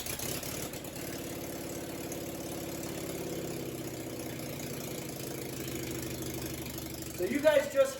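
A John Deere 400 garden tractor with a freshly rebuilt Kohler engine cranks, catches and settles into a steady, rhythmic idle close by, with a person talking briefly near the end.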